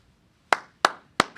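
Three sharp, evenly spaced hand claps ring out alone in a quiet room at a press conference, a deliberate lone clap with no crowd joining in.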